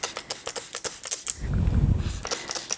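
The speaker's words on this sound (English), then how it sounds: "let's give this a good spray." A handheld spray bottle misting a houseplant up close, a quick series of sharp trigger squirts followed by a longer hiss and then more rapid spritzes, with nobody talking.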